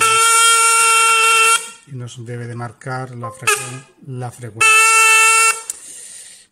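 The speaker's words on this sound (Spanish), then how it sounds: "Accionamos la bocina y" An automobile horn under diagnosis on a test circuit blares loudly and steadily in two long blasts, with someone speaking between them.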